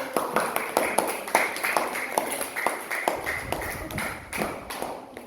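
Children in an Indonesian primary school classroom clap to applaud a student group after its presentation, a steady run of sharp overlapping claps lasting several seconds at moderate distance.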